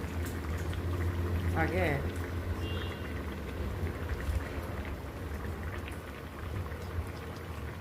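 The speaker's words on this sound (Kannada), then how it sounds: "1-2 ನಿಮಿಷ ಚೆನ್ನಾಗಿ ಕುದೀತಾ ಇದೆ" Prawn gravy boils in a pot with a continuous bubbling simmer, while a voice talks over it close by.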